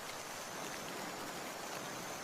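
Steady rain pours down on a parrot, a dense unbroken hiss of drops spread across the whole clip, fairly loud and constant, with no voices.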